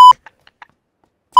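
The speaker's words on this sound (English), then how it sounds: "Every time you say it, it's a beep." Two loud, steady electronic censor beeps bracket the clip, one at the start and one at the end, with faint scattered sounds between them during casual gaming chatter in PUBG.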